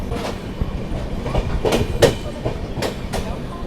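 An express train rolls into Sasaram Junction station in India, recorded from on board, with steady rumbling and a series of sharp rhythmic clickety-clack wheel beats over rail joints, fairly loud and close.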